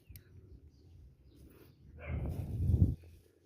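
Dog barking outdoors in a rural Philippine village: after a quiet stretch, a short burst of rough barks near the end, moderately close over faint background noise.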